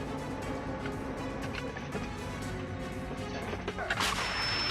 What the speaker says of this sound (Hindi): रूसी रक्षा मंत्रालय ने जंग के मैदान में यूक्रेन के खिलाफ 203 mm स्वचालित तोपों से हमले का वीडियो जारी किया